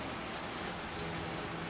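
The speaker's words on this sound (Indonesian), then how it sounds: "ini suara hujan kedengeran nggak?" Steady rain falling, a dense even hiss of drops on a surface, close and continuous with no other sound.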